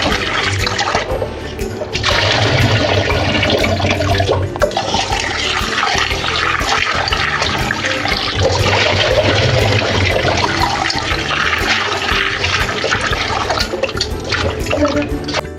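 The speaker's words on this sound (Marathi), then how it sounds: "तर हे असे मस्त आपण चोळून हाताने छान हे तांदूळ धुवून घेणार आहे" Rice being washed by hand in a bowl of water for idli batter: continuous close sloshing, swishing and trickling of water with grains rubbed between the hands, steady throughout with no talk.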